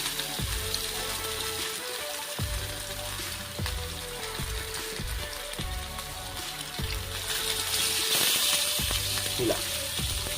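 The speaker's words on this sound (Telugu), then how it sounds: "నూనె వేడైనాక ఒక్కొక్క పీస్ తీసి వేసుకోవాలి" Pieces of fish fry in hot oil in a home kitchen, giving a steady close sizzle and crackle with occasional sharper pops, running continuously with no talk.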